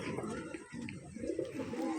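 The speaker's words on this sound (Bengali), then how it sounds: "দেখুন পায়রাটা প্রথম দেখুন, খুব সুন্দর।" Allahabadi Kalsira pigeons coo in low, rolling murmurs that carry on steadily from start to end, sitting close and fairly loud against a faint bird-call background.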